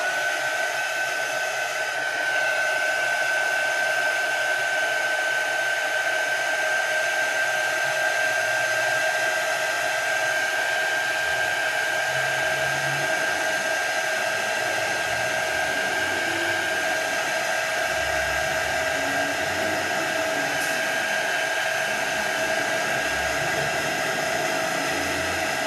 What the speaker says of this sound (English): This Glitz glitter gel is still a tad wet, so I'm going to hit that with my heat gun